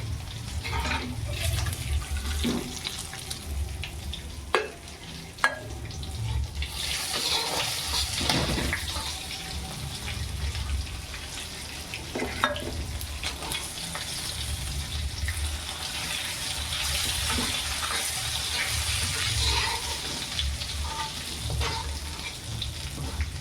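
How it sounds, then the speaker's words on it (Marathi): Salted tuna fish pieces fry in oil with a continuous, fairly loud bubbling sizzle over a long stretch, broken by occasional sharp clicks and clatters from handling in the pan. "आता हे बाकीचे पीस आहेत ना हे असेच सगळे तळून घ्यायचे"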